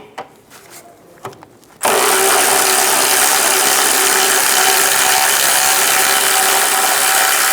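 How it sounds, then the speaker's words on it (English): Ratchet with a 17mm socket loosening the rear lower control arm bolt on a 2003-2007 Honda Accord, a steady loud continuous clatter starting after a couple of seconds of quiet shop noise and running unbroken to the end. "Using a 17mm socket, remove the rear bolt."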